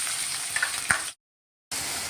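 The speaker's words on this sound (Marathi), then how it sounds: "कांदे आता चांगले परतून घेतोय आपण." Chopped onions fry in a pan after cumin and mustard seeds, a close hissing sizzle with a few stirring knocks, cut off briefly by a silent gap before resuming.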